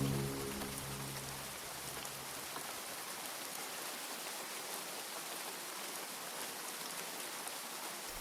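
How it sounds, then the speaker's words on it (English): Steady rain in the farming video game Grimshire hisses evenly throughout, a dense, constant wash of falling water, with the tail of a low horn tone fading out at the start. "Eira wakes up on a rainy day."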